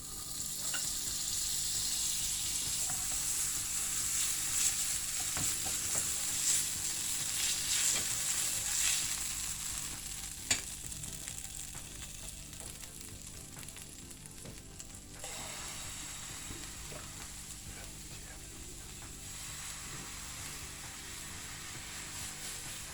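Oil sizzles steadily in a hot pan while cheese and pepper gözleme fries, a continuous bright hiss with occasional crackles, fairly close and alone throughout.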